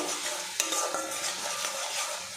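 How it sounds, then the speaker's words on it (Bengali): Spice paste for a teasel gourd curry fries in oil that has begun to separate, with a dense continuous sizzle under close scraping stir strokes and one sharp utensil knock. "মশলাটা আমি ভালো করে কষিয়ে নেব"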